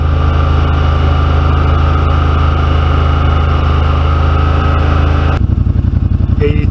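Yamaha RMAX 1000 UTV engine with a Hunterworks exhaust tip revved to about 3,000 rpm, a loud, steady droning hum heard from the cab that drops abruptly near the end into a lower, lumpy idle.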